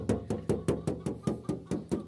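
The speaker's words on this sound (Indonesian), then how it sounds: "coba di ketuk-ketuk seperti ini." Steady knocking on the hollow metal body panel of a used Daihatsu Zebra Espass, about ten evenly spaced raps at a brisk rhythm, close and fairly loud with no talking.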